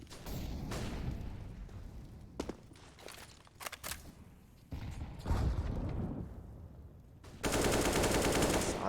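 Counter-Strike match gunfire crackles in scattered sharp bursts, with single shots and short automatic volleys, mechanical clicks and footsteps between them, ending in a dense sustained rattle.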